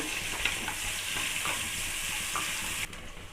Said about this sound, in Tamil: வெங்காயம் வந்து நல்லா வதங்கட்டங்க